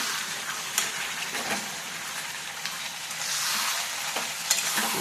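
Goat meat sautés in oil in a pan, a steady bright sizzle broken by occasional stirring scrapes and clicks, close and alone without voices.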